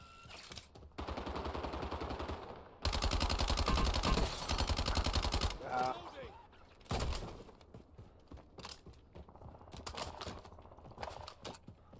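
Rapid automatic gunfire in a Call of Duty: Warzone gunfight, with long bursts of fast shots, a loud sustained stretch in the middle and scattered shorter volleys and single cracks afterward.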